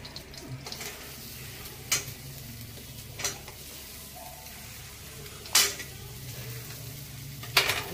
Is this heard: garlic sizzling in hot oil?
yes